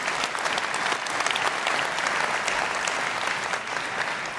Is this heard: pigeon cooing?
no